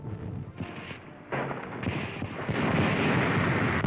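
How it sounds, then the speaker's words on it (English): American artillery shells pound the naval station at Bizerte in 1943, with heavy booming blasts and rumbling roars that swell into a dense, continuous barrage, heard as a loud wartime newsreel soundtrack without speech. "Enemy batteries at the naval station are silenced by American artillery"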